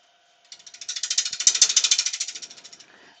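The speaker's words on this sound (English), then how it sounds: "I'm going to be using a 1/2 inch Simon Hope bowl gouge just to clean this up" A walnut bowl spins on a wood lathe while a 1/2 inch Simon Hope bowl gouge cleans it up. It makes a close, rapid rhythmic chatter of evenly spaced ticks that builds to a peak and fades over a few seconds.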